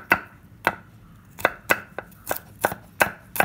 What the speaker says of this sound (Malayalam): നമുക്ക് വെളുത്തുള്ളി മുറിച്ചെടുക്കാം